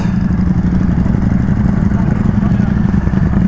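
Motorcycle engines idling and revving at a crowded biker meet, a loud continuous low rumble with clattering under it and voices mixed in.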